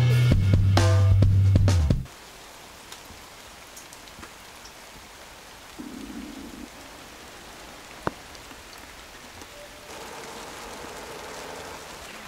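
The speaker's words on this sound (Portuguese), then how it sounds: "Hoje amanheceu assim, bem chuvoso." Steady morning rain falls outdoors in a backyard, a soft continuous hiss of drops on surfaces that follows a loud burst of another sound at the very start and carries on alone for the rest.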